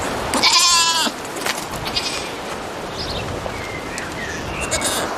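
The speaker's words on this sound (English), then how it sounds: "This goat is very small." A small goat bleats once, close and clear, a wavering cry near the start, followed by faint bird calls and quiet background.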